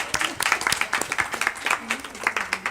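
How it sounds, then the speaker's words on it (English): An audience claps for a group of girls at a film festival panel talk, giving a run of distinct, uneven claps from a modest crowd mixed with some voices. "Let's clap for these girls."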